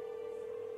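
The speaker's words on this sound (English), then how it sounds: "I love the phone call, the phone sound." A short in-game phone call tone from Minecraft Dungeons & Dragons: a steady, loud electronic tone held unbroken for under a second, with no talk over it.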